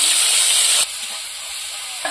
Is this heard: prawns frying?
yes